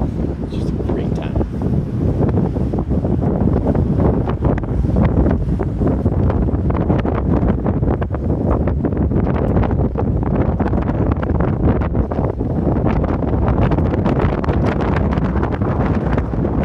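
Wind blows across an open golf driving range with real grass, a steady, loud, broadband rush buffeting the microphone throughout with no pauses.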